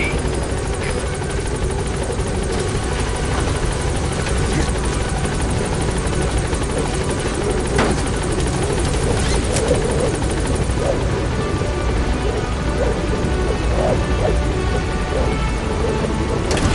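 The Pequod helicopter in Metal Gear Solid V arrives at a landing zone, its rotor and engine making a loud, continuous chopping roar that stays close and steady throughout.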